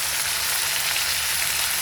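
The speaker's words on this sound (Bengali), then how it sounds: "মাছটা উল্টে দিচ্ছি বন্ধুরা, এক পাশটা ভাজা হয়ে গেছে আর একটু ভাজা" Bhola fish fries in oil in a pan, giving a loud, close, continuous sizzle and crackle that stays steady throughout with no talking.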